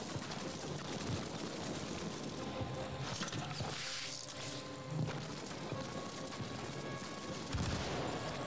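Scattered gunfire crackles in a World War II shooter, Land of War, with irregular bursts and single shots sounding fairly distant and muffled over a constant hiss-like background.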